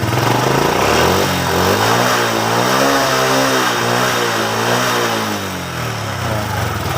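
A Honda 100 motorcycle engine revved with the throttle, a loud close mid-pitched drone that climbs and wavers as the revs rise and hold, easing slightly near the end, with no talking.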